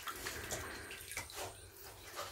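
Newborn ducklings paddle in shallow bathtub water at night, making soft, continuous close splashing and sloshing with a few brief light knocks.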